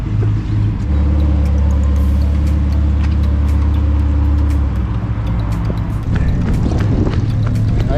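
An Audi R8 drives slowly nearby, its engine giving a loud, steady low rumble that drops off toward the end, with faint clicks and handling noise.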